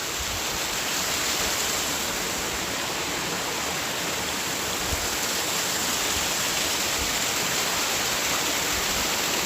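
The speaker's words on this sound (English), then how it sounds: "Let's just listen to the beautiful sound of the running water for a second" A river runs steadily with a constant, full rushing wash of water, close and even throughout with no pauses or voices.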